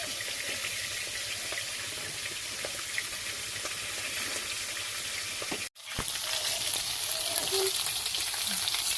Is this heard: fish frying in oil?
yes